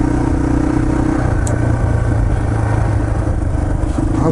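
A Yamaha TT-R230 dirt bike rides trails at Windrock Park, its single-cylinder engine droning loud and close at a steady mid-range pitch, with clatter from the bike and terrain over it.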